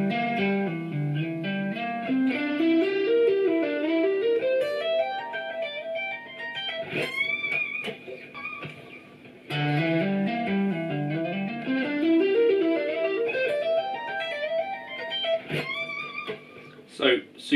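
An electric guitar plays a tapping lick slowly, clear rising runs of notes with a slight effect, repeated twice with a brief pause between phrases.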